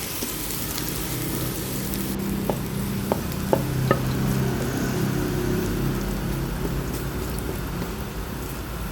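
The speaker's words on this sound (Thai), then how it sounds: "น้ำมันร้อน แล้วก็ใส่กระเทียมลงไปเกี่ยวก่อนค่ะ" Garlic frying in hot oil in a wok, giving a steady hiss and sizzle with a few sharp clinks of a utensil partway through, close and even, without speech.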